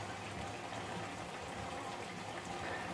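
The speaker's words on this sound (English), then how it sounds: "And now I'm supposed to add a glass of water." Water pours steadily into a pot of tomato chunks and coconut milk, a continuous close gushing splash for a few seconds.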